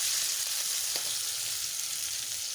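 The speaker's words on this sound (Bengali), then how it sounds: "তেলটা দিয়ে দিচ্ছি, মাছটা ভেজে নেব।" Hilsa fish pieces frying in hot mustard oil, giving a close, steady hiss of sizzling with a faint clink or stir partway through and no voices.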